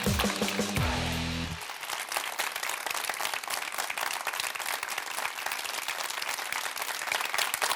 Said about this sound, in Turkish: 100. bölümde alkışlar da daha uzun oluyor